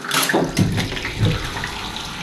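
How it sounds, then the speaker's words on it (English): Water gushing steadily from a tap into an automatically filling bathtub in a Tokyo apartment, a close, continuous splashing rush with no talk. "the water comes out of here and it will automatically fill up"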